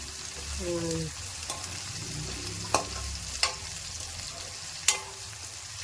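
Quiet sizzling of food frying in a pan, with a few sharp clinks and scrapes as it is stirred.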